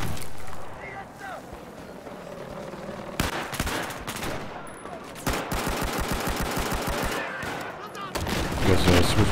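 Rifle fire in Battlefield 4 on a Gulf of Oman map, rapid bursts of close automatic shots broken by short gaps, with vehicle and battle noise underneath and a louder stretch of fire at the end.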